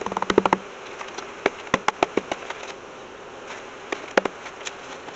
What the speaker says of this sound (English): I'm going to shake the last of the bees in,